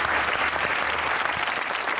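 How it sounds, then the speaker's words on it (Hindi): A studio audience on a comedy talk show claps for a guest, a full, steady burst of applause sustained evenly throughout with no talking over it. "ताली होनी चाहिए अली के"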